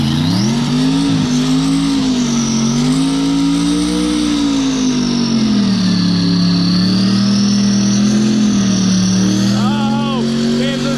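A race car engine in a skid or burnout contest screams at high revs under heavy load, its pitch rising and dropping through gear changes, loud and close for the whole stretch, with tire squeal and excited commentary over it.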